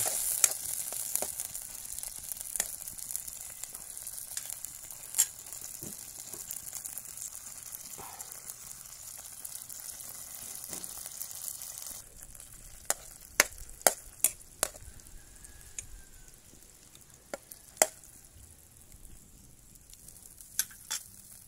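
Sardines with garlic sauté in a hot pan for hantak (ginisang hantak na may sardinas), giving a soft, steady sizzle throughout, broken by scattered sharp clicks and scrapes of a utensil against the pan.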